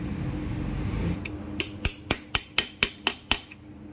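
A lock-type washer being fitted onto the clutch of a TVS Apache 200 4V motorcycle gives a run of eight sharp, evenly spaced metallic clicks or taps, close and fairly loud, after a stretch of low workshop noise.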